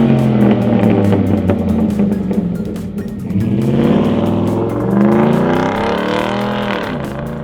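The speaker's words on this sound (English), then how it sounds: "this is one of the loudest out-of-the-box catbacks out there for the 5-liter trucks." Ford F-150 with the 5.0L V8 and an aggressive aftermarket cat-back exhaust kit, revving loudly and continuously up and down in a deep, rumbling roar heard close with no talking.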